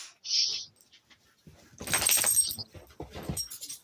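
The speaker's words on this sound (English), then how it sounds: "Sounds like a dog." A dog whimpers and pants in a few short, uneven bursts, fairly close, with brief quiet gaps and some jangling between them.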